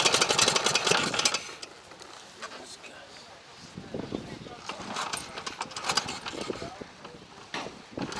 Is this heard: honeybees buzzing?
no